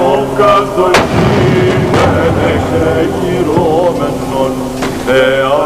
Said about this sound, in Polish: Wschód ostrzegał Zachód wystrzałami armat